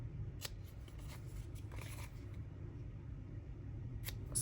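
Scissors trim a small amount off the paper edges of a junk journal tag pocket, giving soft, brief snips and rustles close by over a low background murmur.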